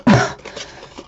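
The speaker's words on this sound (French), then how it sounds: "Alors désolée si je tousse" A single harsh cough bursts out at the start, then fades into quiet breathy noise, with a brief rough catch at the very end.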